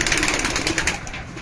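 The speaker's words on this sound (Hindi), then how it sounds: "ये कबूतर देखिए" Madrasi pigeons for sale coo softly close by amid a busy, noisy background, a brief murmur of low burbling calls.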